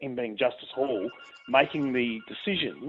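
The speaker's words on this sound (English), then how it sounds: "Sorry about that phone going off in the background" A telephone rings in the background while a person keeps talking over it, the ringing faint and partly buried under the voice.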